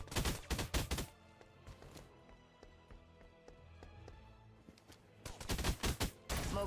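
Bursts of gunfire from the shooter game Snowbreak: Containment Zone, rapid volleys at the start and again near the end with quieter game sounds between, loud and close.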